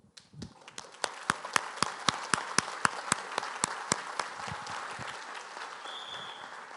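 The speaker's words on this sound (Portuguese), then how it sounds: "Deixa eu aplaudir vocês" Audience members at the CPAC Brasil 2019 conference clap in slow, evenly spaced unison beats that soon blur into a sustained, fuller round of applause filling the hall.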